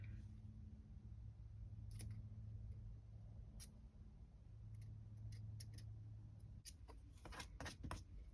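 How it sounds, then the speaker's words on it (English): Quiet, crisp snips of scissors cutting fabric away from buttonhole-stitch appliqué embroidery, a few spaced clicks early on, then a quicker run of sharp snips near the end over faint room hum. "you just kind of want to cut away very carefully these interior bits of fabric"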